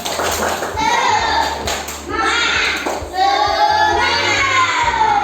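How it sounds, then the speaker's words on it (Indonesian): A classroom of children does a rhythmic spirit clap, sharp hand claps in a steady pattern mixed with children's chanting voices, loud and close throughout. "Tepuk semangat."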